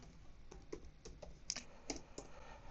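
Fingers type a short run of keystrokes on a computer keyboard while entering an administrator password during router setup, quiet irregular clicks spaced apart, close by and alone.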